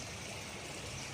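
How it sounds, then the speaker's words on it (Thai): Brief, dense rushing of the flooded Pa Sak River overflowing its banks in Lom Sak, Phetchabun, a steady even wash of water noise with no talk. "บรรยากาศน้ำนะครับ"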